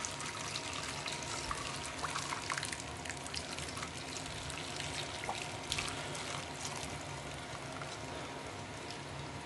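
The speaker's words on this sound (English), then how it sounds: "let's put a little bit more water in here" Water pours into a slow cooker holding seasoned oxtails, a continuous close splashing trickle that runs evenly for several seconds.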